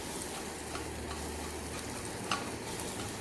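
Petha (pumpkin) sabzi with amchur powder and garam masala stirred in a pan, a quiet, steady low sizzle with faint scraping and a soft knock near the end, no voices.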